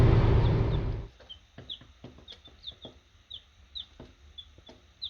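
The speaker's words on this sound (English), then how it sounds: "I'm racing home to see if we can keep some chicks alive" Baby chicks cheep in short, high, repeated peeps scattered across the clip, close and clear, after a brief burst of louder rumbling noise at the start.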